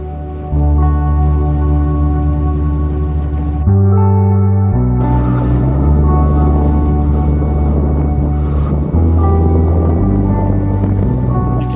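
Small inflatable boat powered by an outboard engine cruising at sea, a loud, steady motor drone whose pitch shifts as the throttle changes, with wind and water noise over it.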